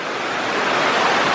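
A Costa Rican river rushing loudly close by on the way upstream toward a hidden waterfall, a dense, unbroken wash of flowing water throughout the short moment.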